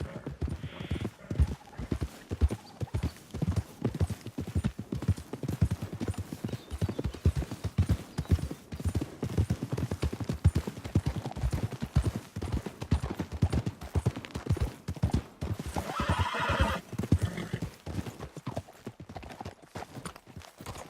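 Steady clip-clop of horse hooves in a video game, Red Dead Redemption 2, over most of the stretch, a continuous rhythmic trot with a brief whinny near the end.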